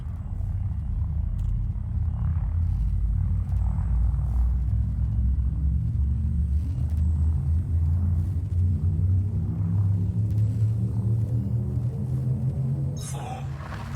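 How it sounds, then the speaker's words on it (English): A spaceship's frameshift drive charges up in a sci-fi video game, giving a loud, steady low rumble with rising harmonic tones that holds for several seconds and then eases off near the end. "Frameshift drive charging."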